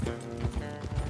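Horse hooves clip-clop in a quick, short burst of several soft thuds in Red Dead Redemption 2, heard close against a background murmur.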